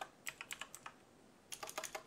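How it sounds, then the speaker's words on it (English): Computer keyboard keys are struck in two quick bursts with a short pause between, each press a soft, close click, and no one speaks. "Gotta type this stuff in again."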